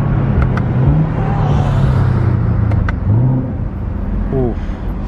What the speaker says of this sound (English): I don't know if you guys can hear those downshifts